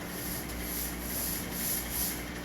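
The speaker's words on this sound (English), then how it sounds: "sanding a 45-degree angle on the ends" Steady rasping of sandpaper on balsa wood edges, sanding 45-degree angles on the ends in quick back-and-forth strokes, close up and continuous.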